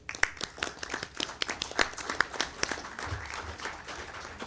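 A small audience at a county council meeting claps with scattered, uneven hand claps. The applause is fairly faint and lasts several seconds without talk.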